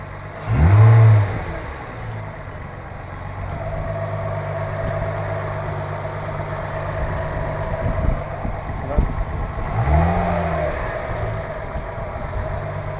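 An Infiniti G35 Coupe with a lit check-engine light and P2A00/P2A03 fault codes sits idling steadily, broken by two short, sharp throttle revs about nine seconds apart.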